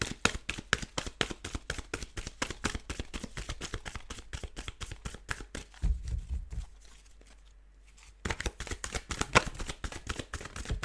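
Playing cards being shuffled in quick, steady riffles, a dense run of sharp crisp flutters that pauses briefly before resuming, close and moderately loud with no voices.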